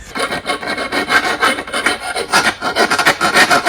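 A hand file rasps across the blade of a ratchet garden pruner in quick, steady back-and-forth strokes, close and loud, with no talking.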